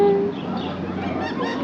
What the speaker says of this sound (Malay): Ada burung bersepah-sepah kat sini